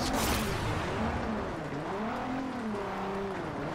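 A car drifts in the racing game Forza Horizon 2, with a loud continuous engine whine that rises and falls in pitch as it revs and slides through the turn.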